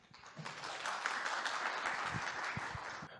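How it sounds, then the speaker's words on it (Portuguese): Audience applause at a lecture on continuous improvement in energy management, a sustained wash of many hands clapping that swells, holds and fades near the end, with no talking over it. "Uma salva de palmas."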